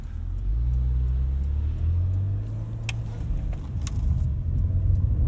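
A 2015 Porsche Macan Turbo driving, heard from inside as a steady low engine and road rumble with a slight rise in revs, continuous and fairly loud, with a couple of faint clicks.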